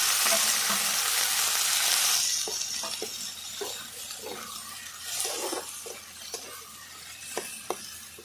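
Fish oil and pieces of meat fry in a pan in a Bengali village kitchen: a loud, dense sizzle for about two seconds, then a softer crackle broken by sharp stirring clicks and scrapes.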